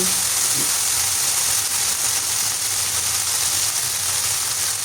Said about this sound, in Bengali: লবণ দিয়ে দিলাম আদা রসুনের পেস্ট এখন এগুলো দিয়ে আমি খুব ভালোভাবে একটু ভেজে নিচ্ছি